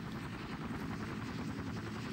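A helicopter flies in a Minecraft zombie-apocalypse game, its rotor producing a steady, dense, low chopping drone that stays constant and loud throughout without any talking.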